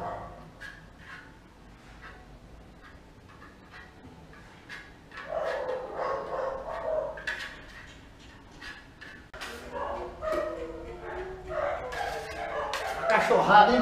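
Dogs barking at a painting job site during a marmorato plaster application class, scattered yips and barks at a distance, mixed with people talking quietly nearby.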